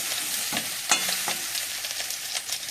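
Green banana curry fries in a pan with a steady close sizzle, broken by a few sharp clacks as it is stirred; no one speaks.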